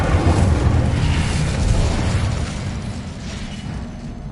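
An Incendio fire spell cast in a Harry Potter video game, a loud, sustained roaring whoosh of flame with a heavy low rumble that slowly fades over a few seconds, no speech.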